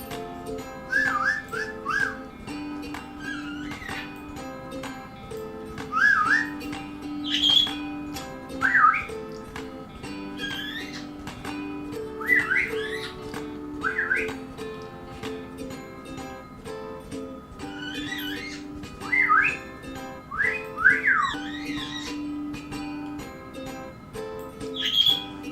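A pet bird named Albie gives repeated short, bright whistles and chirps in scattered bursts over a steady tonal background.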